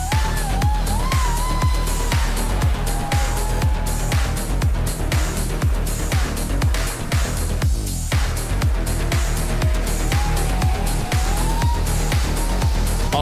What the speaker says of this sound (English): watch the throttle between second and third gear and go for it